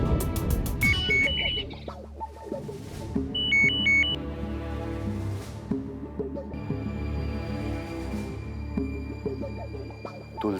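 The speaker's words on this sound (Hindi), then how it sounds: "तुलसी मैडम का फोन।" A phone rings with a bright electronic ringtone, repeating melodic bursts over a background of dramatic music, clear and up close with no speech.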